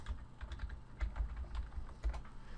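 Quick, light taps on a computer keyboard as a name is typed into a search box, heard close and soft with uneven rhythm and no voices.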